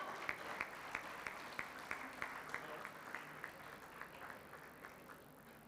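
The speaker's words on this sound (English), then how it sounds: "A thundering round of applause." A crowd applauds an award felicitation at an Ayurveda world summit, the clapping steady and moderately distant, with regular rhythmic accents that fade slightly toward the end.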